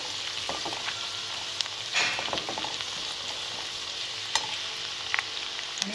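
Onions fry in oil with asafoetida and mustard seeds, browning lightly in a pan. A steady sizzle and crackle runs throughout, with a few sharper pops and a brief stirring scrape partway through.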